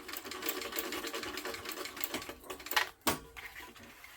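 A sewing machine stitches a leather backpack, its needle running in a fast steady rattle before stopping briefly and starting again for a short back stitch.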